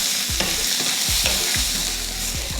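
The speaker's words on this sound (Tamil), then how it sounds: "பீட்ரூட் வந்து நல்லா வதக்கியாச்சு" Beetroot sautéing in oil in a pan for chutney: a steady close sizzle with repeated dull spatula scrapes and knocks in an uneven rhythm, and no voices.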